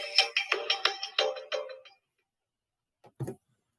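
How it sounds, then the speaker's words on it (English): An incoming phone call's ringtone chimes in a rapid string of about nine short bright tones, clear and close, then silence and a brief clunk as the phone is picked up. "But I gotta take this phone call."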